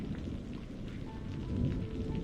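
Rain falls steadily with a low rumbling undertone, a dense close wash of patter without any talking.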